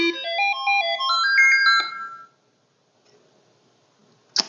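Commodore SX-64 SID sound chip running diagnostic test tones, a rapid series of rising electronic beeps and chimes for about two seconds, then near silence and a short click at the end.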